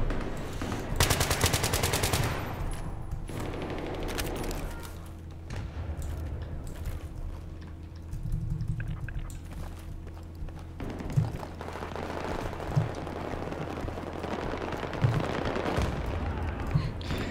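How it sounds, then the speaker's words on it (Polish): Gunfire in Battlefield 3 opens with a loud burst of rapid automatic fire, followed by quieter scattered shots and single distant cracks against a steady battlefield din. "strzela do mnie, kampi się na mnie, ale ja nie wiem skąd."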